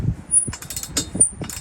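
Screws securing a C4 Corvette targa roof panel are snugged down by hand, giving a few short, close mechanical clicks and ratcheting scrapes spread across a quiet moment with no talk.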